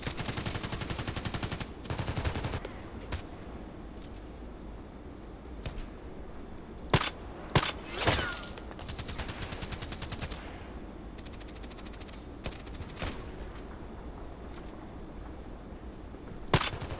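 Gunshots in a first-person shooter, sharp single shots spaced irregularly at first, then a quicker run of repeated shots, with a few louder cracks standing out over low background noise.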